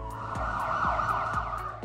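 A fire brigade siren wails steadily near at hand, a loud sustained tone with a rising-falling pitch, accompanied by repeated engine-like pulses underneath and no talk.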